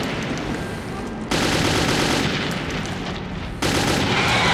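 Gunfire in Metro 2033 comes in loud, close bursts of rapid automatic shots, with one long stretch of fire cut by brief pauses into three bursts.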